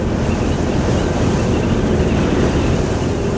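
Strong wind roaring steadily over a vehicle driving along a rural road, a loud dense rushing buffet with no pauses.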